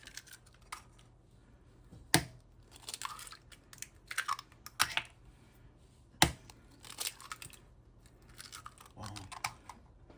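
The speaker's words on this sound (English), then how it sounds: "we finna go ahead and crack our egg" Eggs cracked for a fried green tomato and tilapia batter, heard as two sharp cracks a few seconds apart amid quiet crunching and light kitchen handling noises, close and fairly soft.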